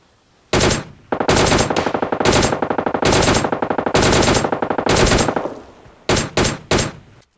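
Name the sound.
gunfire while killing an enemy in PUBG Mobile Lite video game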